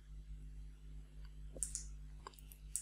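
In a quiet room, a computer mouse gives a few soft, sharp clicks, spaced irregularly and heard alone over a faint steady hum.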